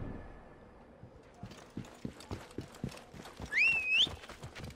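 A horse gallops in the video game Assassin's Creed Origins, steady rhythmic hoofbeats building over a few seconds, with a bright whistling game tone sweeping in near the end.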